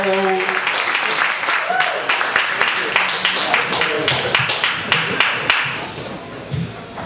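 An audience at a spoken-word poetry night claps continuously for poet Emanuel Xavier, a dense patter of hands with a few louder individual claps standing out near the end.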